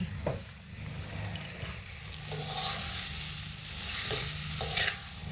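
Dried chillies and bay leaves fry in oil while being stirred in a pan, a steady close sizzle with scraping strokes of the spoon rising and falling throughout.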